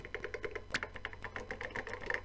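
Computer keyboard typing sounds steady and close, fast with rapid regular clicks across the whole stretch and one sharper key strike partway through, with no voices over it.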